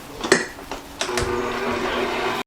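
An electric mixer beats butter for Greek butter cookies: a short clatter first, then a steady, close motor whir that holds to the end.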